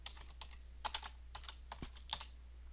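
Keys clatter on a computer keyboard while text is typed into Photoshop Elements, a quick uneven run of close, crisp taps in small bursts over a faint steady hum.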